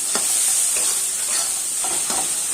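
Snails fried with cumin, coriander, Kashmiri chilli powder, salt and a little ginger in a pan, giving a steady close sizzle with a few soft stirring scrapes and no voices.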